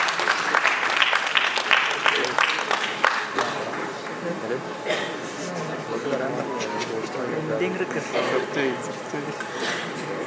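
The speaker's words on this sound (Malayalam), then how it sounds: "നല്ലൊരു കൈയടിയോടെ ബേസലിനെ നമുക്ക് ഈ വേദിയിലേക്ക് സ്വാഗതം ചെയ്യാം" An audience claps loudly to welcome an Indian cricketer onto the stage at a celebration for a Malayalam film's Oscar entry. Dense applause fills the first few seconds, then thins and continues under an announcer's voice.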